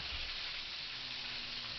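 Chicken pieces frying in oil in a skillet, a steady soft sizzle that holds evenly throughout with no talking.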